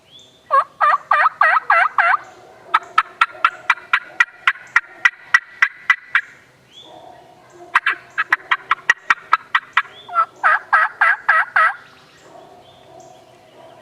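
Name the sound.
turkey call imitating gobbling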